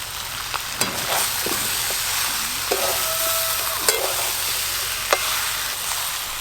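Fried prawns tossed into a pan of spiced potato and jackfruit and stirred, giving a steady sizzle with scattered scrapes and clinks of a spatula, close and moderately loud, no voices.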